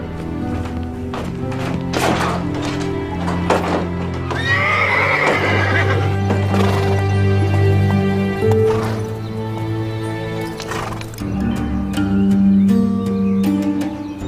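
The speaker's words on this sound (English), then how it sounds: "That's Frank James's horse, all right." A horse whinnies loudly while hooves clop steadily over the ground, accompanied by a swelling musical score throughout.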